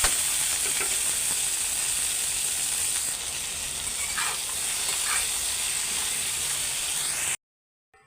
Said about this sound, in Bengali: ভেন্ডি ভাজিটাই আগে বসায় দেই, আর তেল দিছি একদম অল্প।